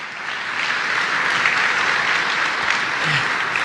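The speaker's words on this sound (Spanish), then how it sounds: "dale un pequeño aplauso" A church congregation breaks into applause during a sermon, a dense, even wash of many hands clapping from start to finish, loud and sustained with no voices over it.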